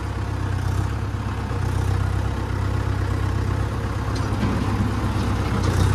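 A farm tractor's engine runs steadily in a rural paddy-field setting, a continuous low rumble that stays close and fairly loud throughout with no talk over it.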